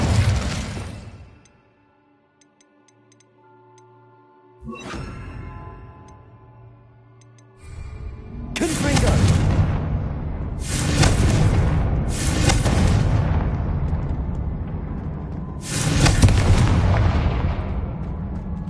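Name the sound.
Incendio fire spell in video game Hogwarts Legacy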